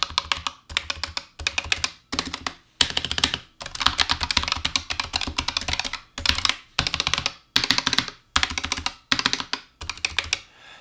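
Typing on a Razer Huntsman TE keyboard fitted with two O-rings on every key, heard as close, crisp bursts of rapid keystrokes separated by short pauses, with no one speaking.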